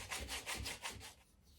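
Sandpaper rubbed back and forth on the rim of a carved wooden eating spoon, about six close, rhythmic scratchy strokes that fade out at the end.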